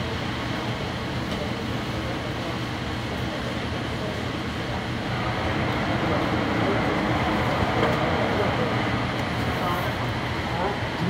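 An AirTrain JFK car on the Jamaica loop runs along its track with a steady loud rumble and rail roar. The noise swells slightly midway and continues without a break.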